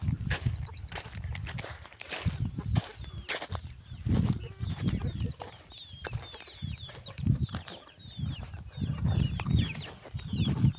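Chickens cluck and a rooster calls in a farmyard, bird sounds coming and going over steady outdoor noise with footsteps and rustling throughout.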